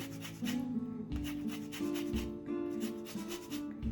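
An organic, chemical-free orange rubbed against a grater for zest for financier cakes, giving repeated close scraping strokes in a steady back-and-forth rhythm with brief pauses between passes.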